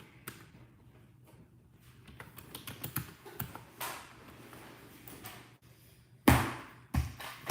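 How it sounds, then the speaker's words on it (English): Keys clatter on a big PC computer keyboard in irregular bursts of quick taps, close and fairly quiet, ending with a couple of louder knocks. "I hate these big keyboards on PCs."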